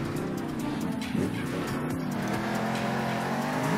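Monster trucks race in Monster Jam Steel Titans, engines roaring at a steady loud drone throughout, with a brief surge and thump as a truck lands a jump midway.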